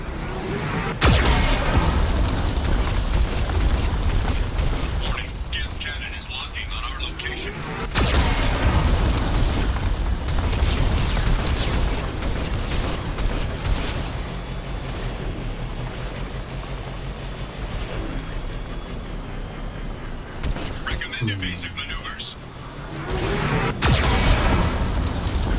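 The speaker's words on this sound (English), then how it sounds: "Warning, the VI infection has assumed control of the geth cannon." Heavy geth cannon blasts from the Mass Effect 2 video game boom repeatedly over a constant loud rumbling battle drone, with several sharp explosive hits spaced seconds apart and no talk.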